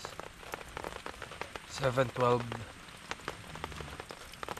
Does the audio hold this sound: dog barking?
no